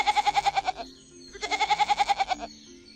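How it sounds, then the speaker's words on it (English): A goat bleats in two loud, close bursts, each a rapid, wavering series of pulsed cries, separated by a short pause with no other sound. "Goat."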